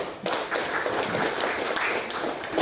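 An audience at an Indonesian Ulema Council plenary meeting in Banten applauds, a steady wash of clapping hands from many people lasting a few seconds in a large room.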